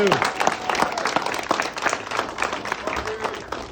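An audience at a film crew event applauds its stunt performers with dense, steady clapping that holds at an even, fairly loud level throughout.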